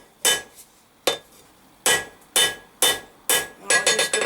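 Hammer blows ring out on a worn-edged anvil while a steel fire poker is forged into a diamond-point dragon's twist: five spaced, sharp metallic strikes, then a quick flurry of lighter taps at the end.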